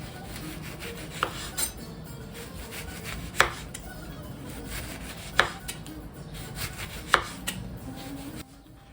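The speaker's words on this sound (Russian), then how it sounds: "Лимончики им нужно нарезать очень тонко" A knife taps down on a cutting board in a few spaced, sharp cuts, thinly slicing lemons, with soft rubbing and scraping between strokes. Close and quiet, no talking.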